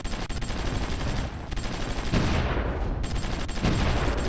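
Artillery fire in the strategy game Supreme Ruler Ultimate rattles as rapid, dense bursts of overlapping shots, loud and continuous for about four seconds with no talking.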